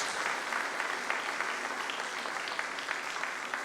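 A church congregation applauding during a service, dense steady clapping from many hands filling the room, loud and continuous with no break.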